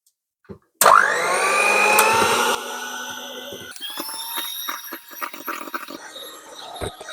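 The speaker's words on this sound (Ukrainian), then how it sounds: "Далі ми додаємо маленькою струєчкою в білочок і будемо збивати до тієї пори, поки не почне білок цей намотуватись на вінчик" Steady electric mixer whirring through egg white for homemade marshmallow (zefir) as syrup is poured in, loud and continuous after a brief clatter, then a rougher, more uneven churning with small knocks.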